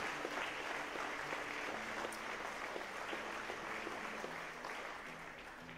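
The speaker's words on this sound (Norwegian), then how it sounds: "Dere kan fortsette å klappe inn resten av Nordafjellsgjengen" Audience applauding at the opening concert of the 2017 Landsfestival, a steady wash of many hands clapping, moderately distant, sustained throughout and slowly fading toward the end.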